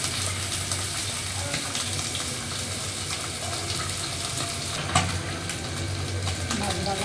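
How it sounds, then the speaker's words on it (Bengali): Kajoli fish fry in a pan with a dense, continuous hiss and crackle that stays loud and even throughout, with a single sharp clatter partway through. "মাছ ভাজা শেষ"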